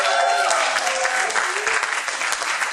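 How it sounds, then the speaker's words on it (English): A live audience applauds and cheers loudly and continuously for a contestant being introduced at a UC Merced stage event, dense clapping filling the whole stretch without a break. "Make some noise for Lucas"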